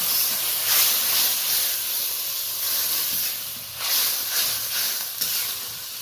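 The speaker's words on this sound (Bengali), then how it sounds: "এই পর্যায়ে আমি অল্প গরম জল দিয়ে দিচ্ছি" Hot water poured into a pan of softened tomatoes and onions sets off a loud, continuous hiss and sizzle of steam that swells and fades in waves, with no talking.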